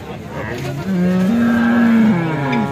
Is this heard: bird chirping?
no